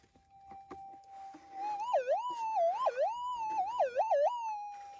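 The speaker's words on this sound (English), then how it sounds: "I do like that warbly sound." Metal detector used to prospect for gold nuggets, giving a warbling tone that rises and falls in repeated swoops over a steady hum, with a few soft knocks underneath and no talk.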